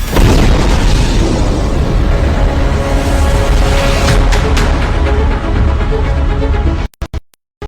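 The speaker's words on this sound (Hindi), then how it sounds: "खार्किव पर रूस के मिसाइल हमले से जोरदार धमाका हुआ" A loud, sustained roaring blast from a Russian missile strike on Kharkiv fills the air, then cuts off abruptly into a few scattered sharp noises.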